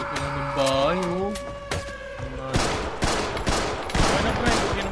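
Several sharp, loud shotgun blasts in Project Zomboid ring out one after another, each with a short crackling tail, following an earlier rising electronic tone.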